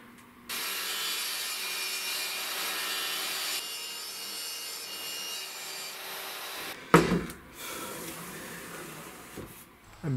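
Shelving sheets with one rough-textured side are trimmed to fit by hand. A steady scraping, rasping stroke runs for several seconds, then gives way to a few sharper knocks and scrapes near the end.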